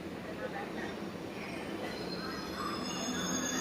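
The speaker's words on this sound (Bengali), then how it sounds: "এই সবে সাঁতরাগাছি ঢুকছে আমাদের ট্রেন" A late-running Digha–Howrah Kandari Express train pulls into Santragachi station, heard from on board as a steady rumbling roll of wheels with high metallic squeals of wheels on rails, loud and continuous, with faint voices underneath.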